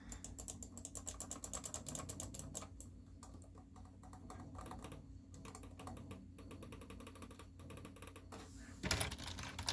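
Fast, irregular clicking of keys on an old, worn computer keyboard running Windows 7, close and fairly quiet, with a brief louder burst near the end.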